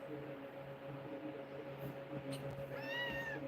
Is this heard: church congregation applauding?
no